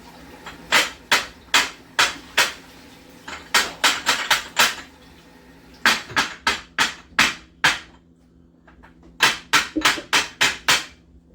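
Dessert ramekins of custard mixture are tapped against a hard surface to release air bubbles, giving sharp, close knocks in quick bursts of three to six with short pauses between.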